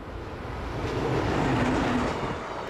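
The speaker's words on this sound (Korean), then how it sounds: "기차는 간이역을 스쳐 지나갑니다" A train rattling past a small rural station, a broad rumbling roar that swells toward the middle and then eases, with faint tonal squeals riding over the steady clatter; no voices.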